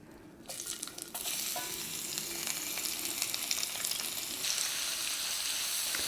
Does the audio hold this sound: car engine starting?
no